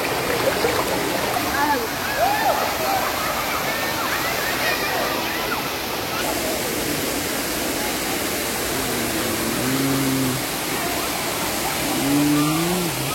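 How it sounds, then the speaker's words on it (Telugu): Rushing water pours steadily at Sarugudu waterfall, a broad continuous roar filling the whole scene, with people's voices and children's chatter rising over it now and then. "వాటర్ ఫాల్స్ చూసారుగా ఎలా ఉంది"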